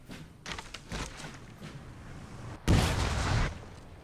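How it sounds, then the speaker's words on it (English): Artillery shells bursting overhead and into a forest in Napoleon: Total War, several muffled booms and rumbling blasts at uneven intervals, with one louder, longer explosion toward the end. "Got a number of shells flying in here. Exploding overhead and into the forest."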